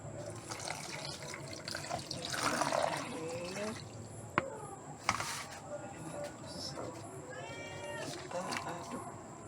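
Water runs and splashes into a container while sago is being prepared in the rainy season, with people talking nearby and a cat meowing between sharp clanks.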